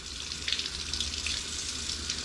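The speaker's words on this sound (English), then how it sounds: "So essentially we're just going to rinse them off here in water." Flounder fillets being rinsed on a board under running hose water, a continuous splashing hiss that holds at a fairly even, close level.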